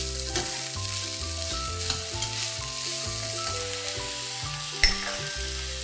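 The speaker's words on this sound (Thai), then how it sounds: "พอผัดข้าวกับผักจนเข้ากันดีแล้วนะคะ" Riceberry rice and vegetables sizzle and crackle as they are stir-fried in a hot pan, a loud, close, continuous frying hiss with occasional scraping stirs and one sharp clink near the end.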